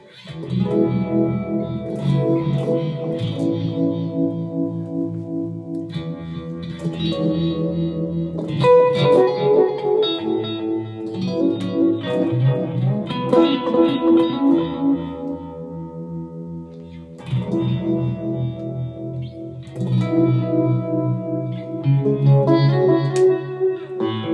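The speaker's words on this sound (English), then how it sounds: "I've got a great little custom phaser and vibe pedal here" Electric guitar played through a custom phaser and vibe pedal, swirling, warbling chords and single notes with a slightly driven tone and reverb, no voices.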